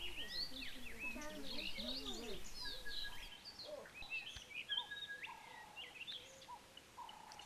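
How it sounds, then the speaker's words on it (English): Birds sing and chirp around a quiet, peaceful camp in Gamkaberg, varied whistled calls and tweets layered close and farther off, with a few softer calls continuing after the louder chorus eases. "Very quiet and peaceful, and all you hear in the background are the birds."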